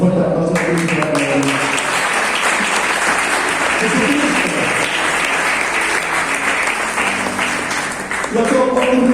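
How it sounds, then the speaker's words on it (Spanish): A church congregation breaks into strong applause during a sermon, loud sustained clapping from many people filling the space, with a preacher's voice heard briefly at the start and end. "Un fuerte aplauso a Cristo."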